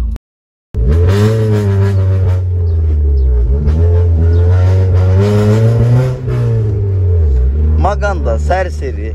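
A Honda car's engine is revved hard and held high, a loud, close, droning whine with a racing-car edge that rises and falls, and voices speak near the end.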